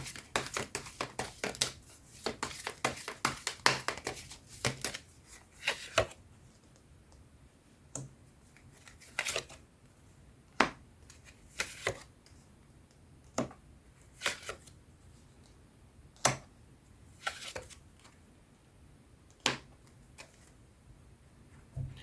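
Tarot cards are shuffled in a quiet room, first in a dense run of quick riffling clicks, then in sparser separate snaps and taps.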